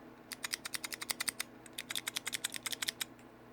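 Clicky Mathias mechanical key switches pressed one after another on a switch tester, a rapid run of sharp, close, bright clicks in two bursts with a short pause between, no voices.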